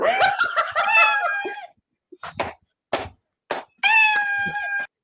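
A cat meowing in long, loud, drawn-out yowls at the start and end, with short clicks and scuffs in the quiet gap between them.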